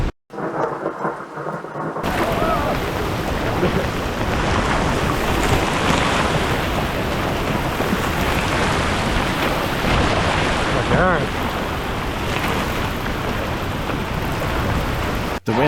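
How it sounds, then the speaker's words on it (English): A sudden wind and rainstorm in the Okefenokee Swamp sweeps in on campers, heavy rain and gusts roaring continuously and loudly close by after a brief quiet start. "The wind and rain came on us so suddenly that we were unable to get our rain gear on in time."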